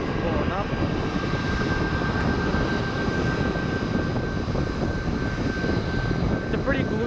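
A Southwest airliner jet taxiing at Portland airport gives a steady, loud engine rumble and whine, mixed with gusting wind noise throughout.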